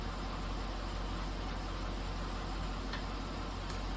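An SUV engine idles faintly and steadily in the background, a low continuous hum with occasional soft ticks.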